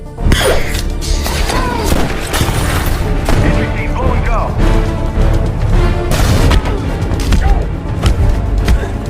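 Loud, chaotic action scene from The Dark Knight, a SWAT police raid on a building with hostages, with bursts of gunfire and booming impacts layered over dramatic music and occasional shouting voices throughout.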